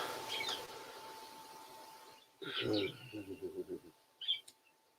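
Birds chirp outside a window in short, bright bursts, with a few scattered calls spread across the clip, heard faintly alongside someone talking nearby.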